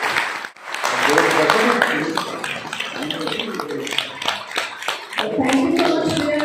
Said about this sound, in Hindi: भाई मैम के लिए एक बार जोरदार तालियां हो जाए